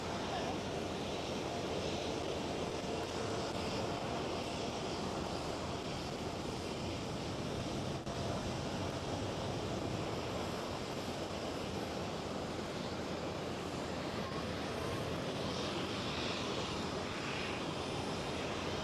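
A TUI Boeing 787 airliner departs Schiphol Amsterdam Airport, its jet engines a loud, sustained, broadband roar that holds steady for the whole stretch, with a voice talking faintly underneath.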